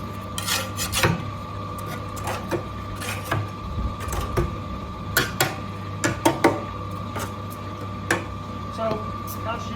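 A steel trowel scrapes and knocks against the drum of a paddle mixer churning lime mortar, with irregular clanks and rasps over a steady low mechanical hum, close by.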